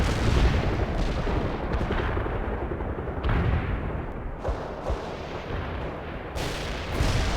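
Artillery barrage in the video game World in Conflict, a Soviet assault mission: a dense, continuous rumble of heavy shell blasts and thumps layered with distant gunfire, loud and sustained throughout.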